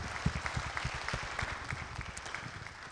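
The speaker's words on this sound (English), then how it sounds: "I'd like to give you a round of applause" Applause from a seminar audience, a steady patter of hand claps at moderate distance that carries on evenly, with no voices over it.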